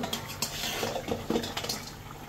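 Fish pieces dropped into a pot of boiled vegetables, with clinking and scraping of utensils against the pot and soft wet stirring sounds, close and moderately quiet.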